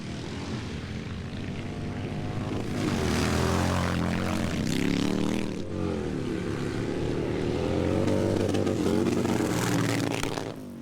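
Harley-Davidson Sportster motorcycles drag racing at the Born Free Texas event, a loud sustained engine roar rising and falling as bikes accelerate down the strip, heard from close by with no talk.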